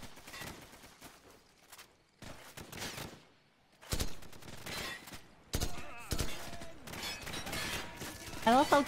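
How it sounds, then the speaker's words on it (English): Suppressed gunfire in Call of Duty 4: Modern Warfare, heard as soft, muffled bursts of rapid shots separated by brief pauses, set among game noise and a faint voice. "I love how cute my gun sounds. It has a suppressor on."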